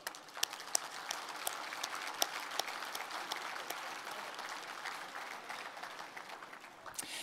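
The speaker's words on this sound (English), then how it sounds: "Ladies and gentlemen, please join me for a round of applause." A keynote audience at the 2018 State of the Region event claps steadily for about seven seconds, dense sustained applause with a few sharper individual claps standing out near the start, moderately distant and without talk.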